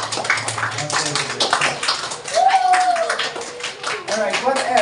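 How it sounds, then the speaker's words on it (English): Classmates clap in a university classroom during a practicum lesson, a short burst of uneven hand claps from a small group mixed with voices talking and a whoop rising over the noise. "give me a round of applause"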